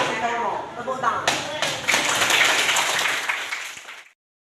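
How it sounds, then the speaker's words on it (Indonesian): A group of participants claps together in a dense, close burst of applause that builds, holds for a few seconds and then stops abruptly. "Tepuk tangan."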